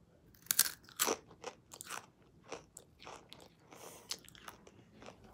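Takis rolled tortilla chips are bitten and crunched up close, with sharp crisp crunches followed by steadier chewing that fades and rises over several seconds, and no talking.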